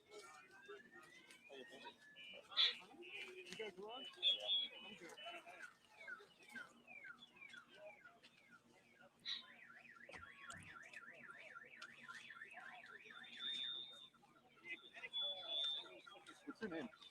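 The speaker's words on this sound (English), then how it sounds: "It sounds like the old 1980s car alarms is what it sounds like." An old 1980s-style car alarm cycles through shifting electronic patterns: rising tones, rapid warbles and chirps, heard at a distance outdoors with faint background voices.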